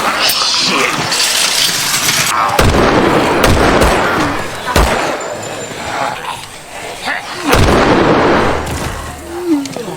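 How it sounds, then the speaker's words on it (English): Several loud gunshots crack out at irregular intervals in a scene from The Walking Dead, each a sharp burst with a brief echo, amid other noisy activity and occasional voices. "Gunshot."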